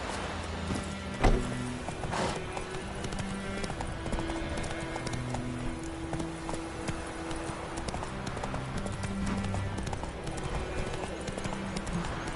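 The horse Roach in The Witcher 3 trots along, its hooves clip-clopping in a steady, even rhythm at close range over a bed of game music and ambience.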